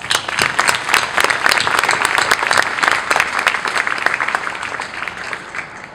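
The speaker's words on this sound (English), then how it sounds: "Round of applause." Audience applause at a naval officer's retirement ceremony, a dense, steady round of clapping from a crowd that holds loud for several seconds and then starts to thin toward the end.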